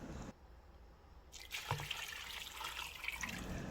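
One liter of water poured into a pressure cooker full of soaked soybeans: after a brief hush, a steady close splashing pour runs for a couple of seconds and then settles into trickling.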